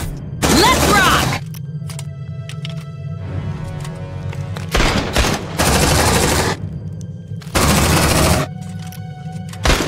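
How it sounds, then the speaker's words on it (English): A deployed sentry gun in Aliens: Dark Descent fires in several loud, rapid automatic bursts separated by short pauses, with game voices and combat noise between the volleys. "Deploying sentry gun!"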